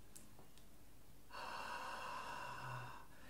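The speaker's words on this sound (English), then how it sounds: "it's me breathing out with no resistance" An unvoiced, open-throated exhale with no vocal-cord resistance, a steady breathy hiss of about a second and a half that follows a short quiet lead-in, heard close and alone.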